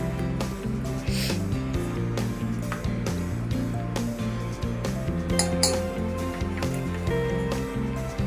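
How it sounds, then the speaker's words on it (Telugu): Chopped onion, green chili and a tablespoon of ginger-garlic paste are mixed together in a bowl, giving steady clinks and scraping against the bowl under continuous background music. "బాగా కలుపుకోవాలి"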